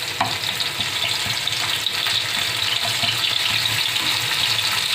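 Sliced onion frying in a pan over a low flame for black whole masoor daal, a steady, close sizzle that crackles continuously throughout with no talk.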